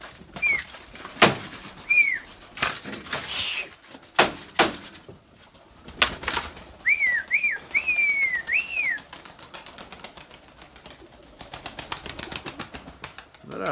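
Young white Erzurum pigeons flap their wings in several loud, close bursts, mixed with short chirping calls and scattered clattering.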